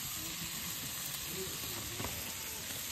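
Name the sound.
onions sizzling while frying on a wood fire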